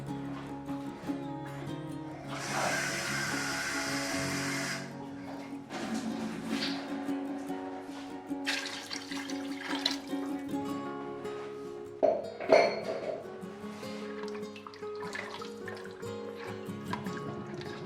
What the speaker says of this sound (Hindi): मैं 1/2 लीटर इसमें और पानी डाल दूँगी